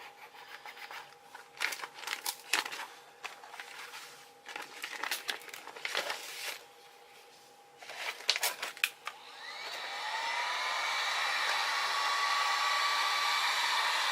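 Heat gun blowing on vinyl wrap stretched over a foam cosplay piece. Scattered rubbing and crinkling of material come first, then a steady airy roar that holds to the end.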